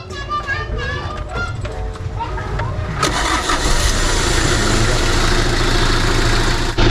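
A 1996 Mitsubishi L300 with a faulty injection pump cranks and catches, then settles into a steady, loud idle; a voice speaks briefly before the start.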